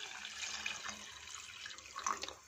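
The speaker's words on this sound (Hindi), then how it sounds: "इसमें 2 कप पानी शामिल कर देंगे" Water pours and splashes into a pot holding about 200 grams of bone-in meat, a faint, steady trickling stream that lasts throughout.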